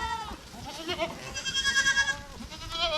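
Goats, including young kids, bleat repeatedly in a pasture, overlapping high wavering calls of varying pitch at close to moderate distance with no talking.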